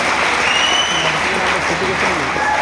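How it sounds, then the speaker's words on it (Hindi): Steady, loud applause from a seated audience at a cricket coaching talk, continuous clapping filling the whole moment with a faint voice underneath. "जोरदार ताली होना चाहिए लड़कियों के लिए भी"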